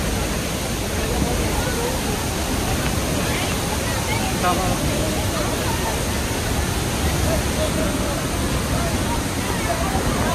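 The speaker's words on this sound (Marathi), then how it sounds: "सुंदर असा वाहणारा धबधबा, त्याच्या समोर ही गर्दी" Devkund waterfall flows with a constant, full-bodied roar, while a crowd gathered in front of it adds a low murmur of chatter beneath the water.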